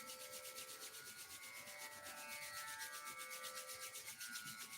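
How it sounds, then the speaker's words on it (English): Palms rub briskly together in a quiet room during a morning yoga session, making a continuous, rhythmic dry swishing that stays close and steady throughout. "Rub the palms briskly."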